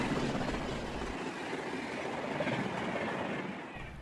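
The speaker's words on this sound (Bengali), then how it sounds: "তাদের ট্রেন ধীরে ধীরে ঘিঞ্জি কোলাহলময় শহরের পরিবেশ পাশ কাটিয়ে নিরিবিলি ক্ষেত, মাঠঘাটের বুক চিরে তাদের গন্তব্যের দিকে ছুটে চলেছে।" A cartoon train rolls steadily through open countryside fields, a continuous loud rumbling hum of wheels and carriages that keeps going with no pause and no voices.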